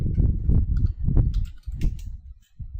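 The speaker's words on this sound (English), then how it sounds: "So I'll just type my config." Rapid typing on a computer keyboard while entering a network configuration command, a dense run of clicky keystrokes close up and loud, with a short pause near the end and no talking.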